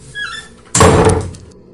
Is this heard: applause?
no